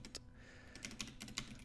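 Light, fast keystrokes on a computer keyboard as code is typed, several irregular clicks spread over a moment, close and quiet against faint room noise.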